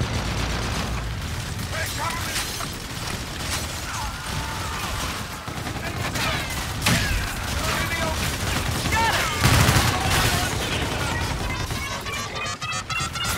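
Dense, continuous gunfire and explosive crashes from the video game Call of Duty Infinite Warfare, loud and sustained throughout with bursts of rapid shots and impacts.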